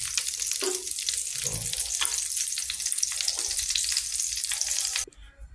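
Hotdogs fry in a pan with a steady, close sizzle and crackle, with faint stirring knocks now and then, until the sizzle cuts off abruptly near the end.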